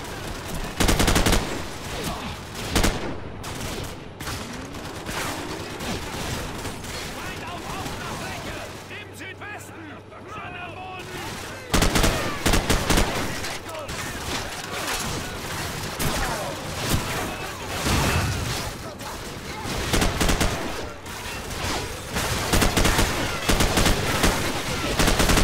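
Sustained gunfire in Call of Duty 4: Modern Warfare, dense automatic bursts and shots running almost continuously with a brief lull midway, loud and close, with someone commenting over it.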